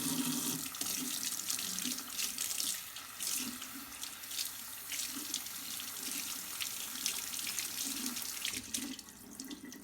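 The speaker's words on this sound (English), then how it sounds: "Take your cotton top sheet and run it under cold water." Cold water runs from a tap as a cotton sheet is soaked under it, a continuous close splashing stream with shifting gurgles as the fabric moves in the flow.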